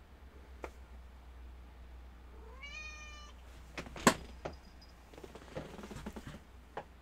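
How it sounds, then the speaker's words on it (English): House cats meow and scamper indoors, one rising drawn-out meow followed by thumps, pattering and scattered clatters of play, faint to moderate over a low room hum. "my cats are freaking going nuts."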